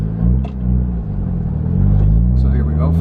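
A 2009 Nissan Cube fitted with a J2 stainless cat-back exhaust accelerates, its engine a loud, steady low drone that rises slightly as the car pulls away, with a voice talking over it.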